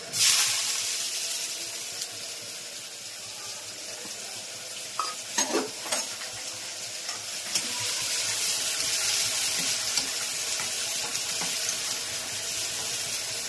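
A Gujarati vaghar of mustard seeds and cumin sizzles in hot oil for a sambharo with tindora, a continuous close hiss with a few sharp clicks and knocks midway, then swelling into a fuller, steamier sizzle, with no talk.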